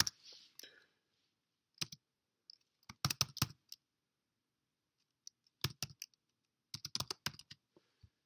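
Quiet, close clicking of a computer keyboard as an address is typed, in short irregular bursts of keystrokes separated by pauses.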